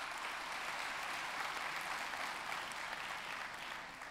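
Steady applause from a round-table audience in Marseille, a dense even patter of many hands clapping that holds for several seconds without voices.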